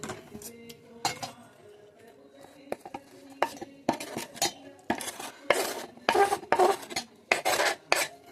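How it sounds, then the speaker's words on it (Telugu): Beaten eggs are mixed with chopped onions, coriander, curry leaves and mint in a bowl for a vegetable omelet. A utensil scrapes and clinks against the dish in irregular bursts, quiet at first and growing busier and louder. "కొత్తిమీర, కరివేపాకు, పుదీనా, ఉల్లిపాయలు ఎగ్స్తో కలిపేసి ఇప్పుడు చూస్తాం"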